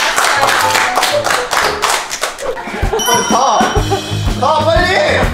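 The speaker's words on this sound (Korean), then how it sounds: "박수 한번 합시다" A small group claps together in brief, rhythmic bursts of sharp hand claps, then the clapping gives way to lively talking and laughter from several people close by.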